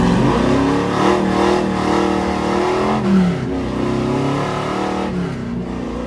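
A 502 big block Chevelle SS restomod revs hard during a burnout, its loud, close engine note rising and falling through several sweeping pulls before settling into a sustained roar.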